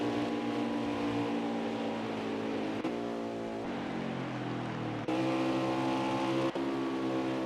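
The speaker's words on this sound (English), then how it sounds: "it sounds like cars are still going on" Race cars circle a track in a racing championship at Las Vegas, a continuous droning engine roar with shifting pitch, no talk over it.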